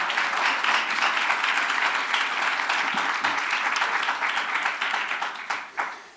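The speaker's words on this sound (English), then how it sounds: "So give yourselves a round of applause." Sustained applause from an audience at a government announcement event, dense steady clapping filling the room for several seconds before tapering off into scattered final claps.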